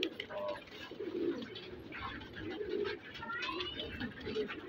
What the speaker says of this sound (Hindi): ये नए कबूतर भी कुछ खोल रहे हैं